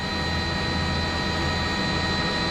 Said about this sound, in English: is that the police chopper that just flew by that's still looking around for him as well?